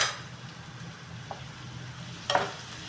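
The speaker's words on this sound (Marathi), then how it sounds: "परतून घेते" Spices and red chili powder sauté in an oiled pan, giving a soft, steady sizzle throughout with a couple of brief scraping stir sounds near the end, no voices.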